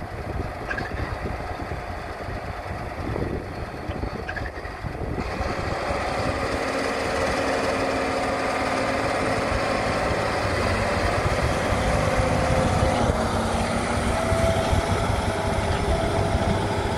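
Case IH 2594 tractor engine pulling an 8-bottom plow through a field, a steady droning hum that thickens and grows louder partway through and then holds, continuous and fairly close, with no talk.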